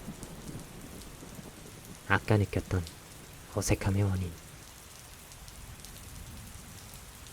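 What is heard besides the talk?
rain falling with distant thunder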